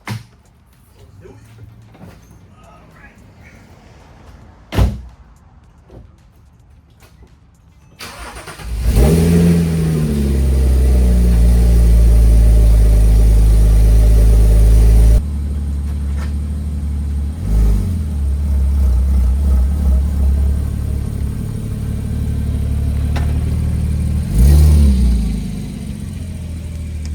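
A Porsche 987 Boxster Spyder engine cranks and fires up, then revs loudly and close, settling into a steady throaty idle with a few sharp blips of the throttle, no talking over it.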